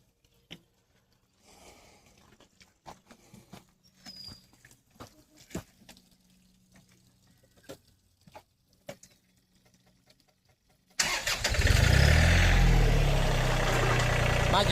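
A farm tractor starts and backs up beside a flatbed trailer being welded into a dovetail; faint shuffling and clatter come first, then the engine bursts into a loud, steady close rumble that holds to the end.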